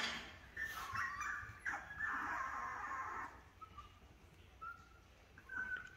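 Eight-week-old puppies whimper and yip while playing with an older dog, high thin cries and short yelps coming in scattered bursts, fairly faint against a quiet indoor background.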